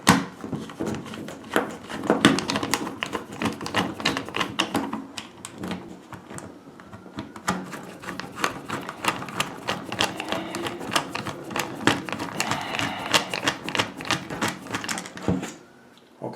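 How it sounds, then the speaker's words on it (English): Torx screwdriver backing screws out of an Xbox 360 controller shell, giving a close run of small dense clicks, taps and scrapes of plastic and metal that continues steadily with no talking. "Okay, so I'm going to continue to take out the screws right now."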